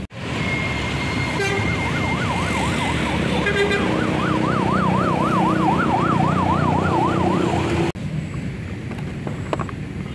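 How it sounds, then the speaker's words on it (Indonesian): A toy ambulance siren wails loudly and continuously in a rapid up-and-down pattern, close up, with no talking, then cuts off abruptly before a quieter tail. "ada mobil ambulan"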